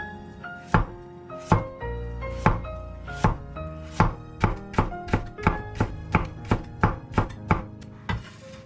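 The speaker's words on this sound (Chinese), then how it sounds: "最后再切一点胡萝卜丝放到盘里做装饰用" A kitchen knife chops carrot into thin shreds on a cutting board for a potato and pork stir-fry garnish, about seventeen sharp, close knocks that start spaced and quicken into a steady rhythm, with no talking.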